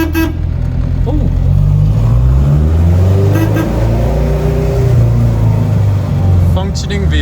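A Ford Anglia with a swapped Crossflow engine runs close by, its rumbling engine rising and falling through several revs, with people talking over it.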